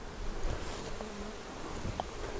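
Honey bees moving gently across a light brood frame lifted from a hive during a varroa check, giving a soft, steady buzzing hum close by, alone with no talk.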